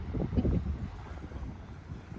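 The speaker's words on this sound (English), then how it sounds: "Windy, no doubt." Wind gusting at the end of a seaside pier on a dark, misty day, buffeting the microphone in low rumbling bursts that ease off slightly, with no voices.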